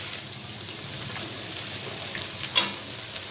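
Edible gum (gond) frying in hot ghee over a low gas flame, a steady bright hiss like light rain with small crackles and one louder pop, close by and without speech.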